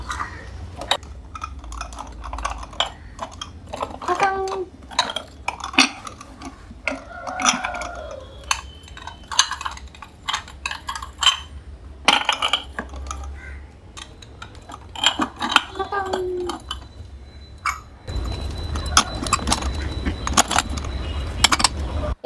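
Glass dishes and vessels are handled during home decluttering, giving irregular clinks, taps and knocks of glass against glass and surfaces, near and fairly loud throughout, with faint household rustling.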